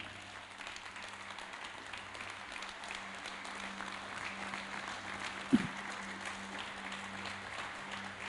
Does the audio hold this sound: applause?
yes